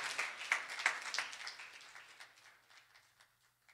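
A congregation claps at a memorial celebration of life, with brisk, dense applause from many hands at moderate distance that gradually thins and fades out.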